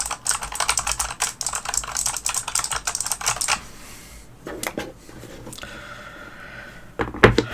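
Rapid typing on a computer keyboard, steady clatter of keys for several seconds, then a pause with a faint hum before a few louder final keystrokes; no talking.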